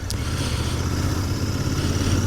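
A Royal Enfield Continental GT 650 twin-cylinder motorcycle with its stock exhaust rumbles steadily at idle, loud and close, a deep constant engine drone with no talking, on an early morning winter ride.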